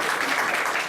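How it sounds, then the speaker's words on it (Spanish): A short burst of thick, even applause from the audience at an academic library science colloquium, heard alone and fairly close. "Con un aplauso, por favor."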